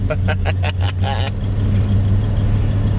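A 1969 El Camino's engine cranks over sluggishly on a weak, low cranking amp battery during a cold start, with about five rapid starter chugs followed by a rough, steady rumble.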